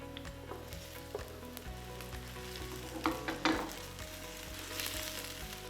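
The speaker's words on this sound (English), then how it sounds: "So to the hot oil, I'll add a little bit of the onion." Onion and potatoes fry in hot oil for a Spanish egg tortilla, a soft steady sizzle punctuated by utensil taps and scrapes against the pan, no voices.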